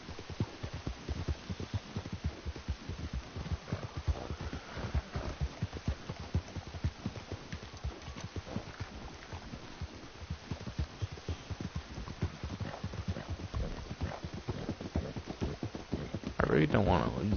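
Horse hooves clip-clop in Red Dead Online, a fast, regular galloping patter that runs steadily for over fifteen seconds with a low hum beneath, ending in a sharper burst.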